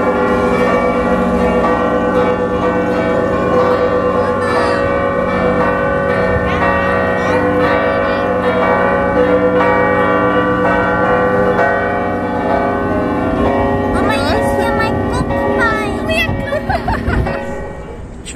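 Church bells on a Maltese island ring loudly and continuously, layered peals overlapping in a steady clangor that carries on through the whole stretch with a few faint voices.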